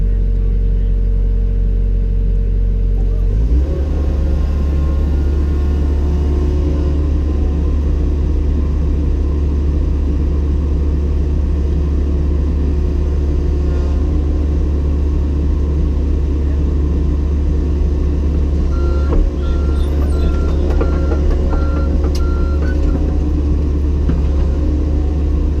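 Diesel engine noise from John Deere skid steers working on a sewer pipe and manhole installation site: a steady, loud, low rumble that picks up after a few seconds and holds throughout, with faint clanks and higher mechanical tones near the end.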